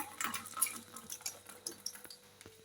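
Water poured into small containers in a home kitchen, heard as faint, uneven splashing and trickling with light clinks, with no speech.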